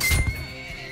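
A horse in the medieval combat game Bannerlord gives a loud, close whinny that rises then trails off, with faint hoofbeat-like clatter and no talking.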